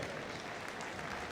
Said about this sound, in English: so there's always going to be a bigger cheer for them